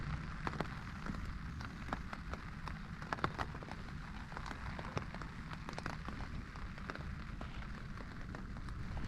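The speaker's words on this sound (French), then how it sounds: "Il pleut un peu" Light rain patters on a tent while camping on the Compostela pilgrimage route, irregular soft drops tapping close over a faint steady background.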